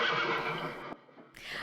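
A horse whinnies loudly in a scene from the 1974 comedy film Young Frankenstein, a shrill, quavering neigh lasting about a second, followed by a brief second cry.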